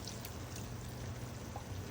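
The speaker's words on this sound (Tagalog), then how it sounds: "Yung sabaw kanina, pwede na natin isama." Broth pours into a pot of low-carb menudo, a continuous liquid stream with light splashing and drips, steady and close with no talking.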